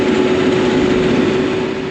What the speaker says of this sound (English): When it's this hot and the tractor's running warm, don't turn it off right when you get back.